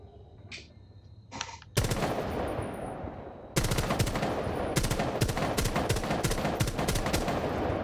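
Gunfire in a PS4 video game: a short burst of shots, then sustained rapid automatic fire in loud, dense, evenly spaced cracks that continue to the end.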